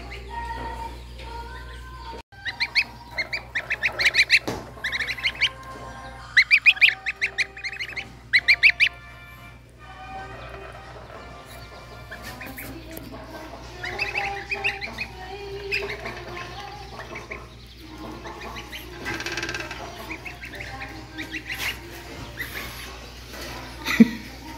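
Young goslings peep in bursts of high chirps and faint honks, close by, with quieter stretches of soft rustling between the calls.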